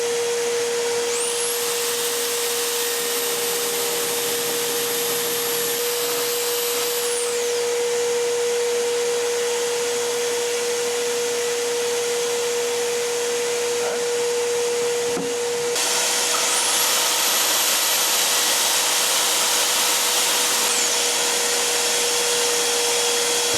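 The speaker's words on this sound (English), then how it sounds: "you can use the vacuum as you're doing it to keep the dust down to a minimum" A vacuum cleaner runs steadily during fiberglass work on a sailboat under restoration, a constant droning hum with a shrill high whine that swells in two long stretches, with no voices.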